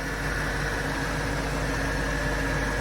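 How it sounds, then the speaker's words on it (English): A BMW engine with an SMG transmission idles smoothly and steadily, a close, continuous low hum with a faint whine and no variation throughout. "Bloody lovely smooth engine that, isn't it?"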